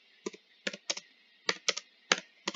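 Someone types on a computer keyboard in quick, close clusters of crisp key clicks separated by short pauses. No one speaks.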